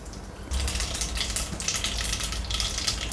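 After a short pause, hot oil bursts into loud crackling and popping as about half a spoon of mustard seeds hits the pan, sizzling busily throughout.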